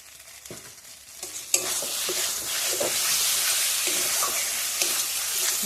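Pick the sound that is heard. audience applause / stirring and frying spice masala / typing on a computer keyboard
stirring and frying spice masala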